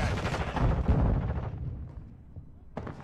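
A shotgun blast in the video game Call of Duty, a single loud close boom that decays over about a second, followed by a brief sharp sound near the end.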